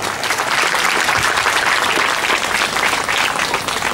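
Loud applause welcoming an MLA at Christmas celebrations in a Jagtial garden hall, a thick sustained burst of clapping from a large crowd, close and even throughout with no voices over it.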